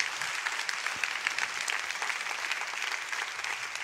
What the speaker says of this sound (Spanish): ¿Le das un aplauso bien fuerte al Rey?